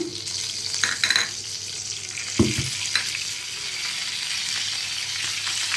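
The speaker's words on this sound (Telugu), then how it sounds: "ఆయిల్ వేడెక్కిందండి ఇందులోనైతే పోపు దినుసులు వేసుకోండి" Tempering spices and cut dried red chillies frying in hot oil for mint chutney, a close, steady crackling sizzle with a couple of sharper bursts as ingredients hit the pan.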